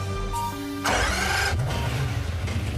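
A McLaren F1 road car's engine cranks and catches, then settles into a loud, steady idle with a deep rumble, heard close up with no voices.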